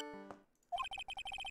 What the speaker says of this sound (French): Qu'est-ce que c'est que cette sonnerie ?